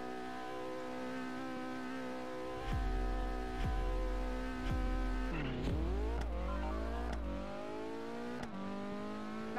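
A car engine in a Roblox racing game hums steadily, then revs up and drops through repeated gear shifts, with rising and falling pitch sweeps and a heavy low rumble in the middle stretch.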